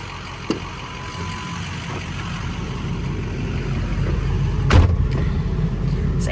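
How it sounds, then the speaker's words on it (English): A 2006 Ford F250 XLT Super Duty 4x4 pickup with an 8-foot bed drives along, heard from inside the cab as a steady, loud engine and road rumble with a brief knock partway through. "So, I think pretty much all that's left on here is to take her for a drive."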